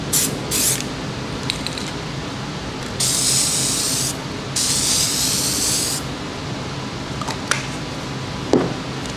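Short and long bursts of a spray gun laying a tack coat of Raptor bed liner, a loud airy hiss starting and stopping in several separate passes over a low background hum, with no talking.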